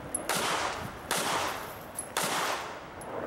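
Three loud gunshot bursts from a shooter moving through a shooting range stage, about one second apart, each ringing briefly before the next.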